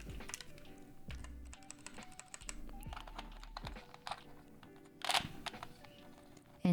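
Clicky switches clatter on an Asus hotswap gaming keyboard in a steady run of close, crisp keystrokes, with a few louder thocks near the end.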